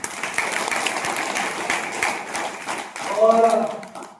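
Scattered audience clapping at a seminar-style gathering, uneven hand claps over a few seconds that thin out, followed by a voice speaking near the end.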